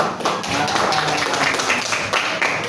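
A group of people clap their hands together in a dense, steady patter that holds at an even level for a few seconds, with faint voices mixed in.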